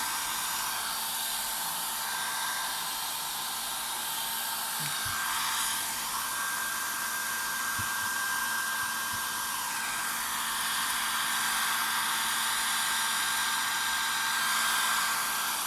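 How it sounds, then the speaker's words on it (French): A hair dryer blows with a steady, loud whooshing hum from start to finish, close by, drying a craft of pressed flowers in a clear pouch, with a few faint bumps and no talking. "Alors maintenant, on va faire un petit coup de sèche-cheveux."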